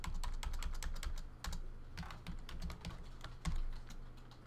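Computer keyboard typing, close and fairly quiet, with a quick irregular patter of keystrokes that runs throughout, including a few louder key strikes, and no voices.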